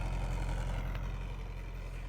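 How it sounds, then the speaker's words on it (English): A 1980 Mercedes-Benz 450 SEL engine idles steadily up close, a continuous low rumble with an even, unchanging beat and no revving throughout. "We're idling nicely."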